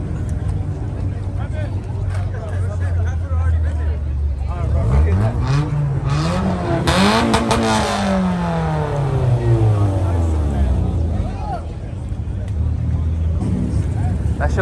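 At a car meet, a car revs its engine hard, a loud rising and falling snarl that swells in the middle, with people talking nearby over the steady idle before and after.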